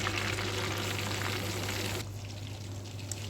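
Amur fish pieces frying in hot oil give a steady, dense sizzle that stays loud and even for the first two seconds, then continues a little softer.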